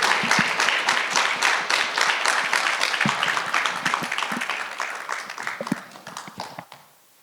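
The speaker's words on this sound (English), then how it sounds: "huge round of applause to everyone that is here today" Steady audience applause at the 2026 Impact Summit, a dense wash of many hands clapping at even loudness for several seconds before tapering off and ending abruptly.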